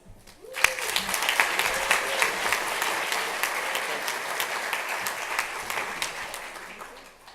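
Applause at a gala for an award winner from an attorneys' association, rising suddenly into sustained clapping from a large room, a few voices mixed in, holding steady before tapering slightly at the end.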